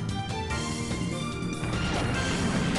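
A Sludge Bomb attack lands in the Pokémon Colosseum video game, a loud, dense crash of synthesized effects over game music that keeps up for the whole clip.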